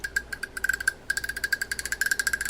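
Rapid, steady clicking of a Berkley No. 415 spinning fishing reel's wire click ratchet as the line spools backwards, a fast run of sharp ticks with a brief pause partway through, close and fairly quiet.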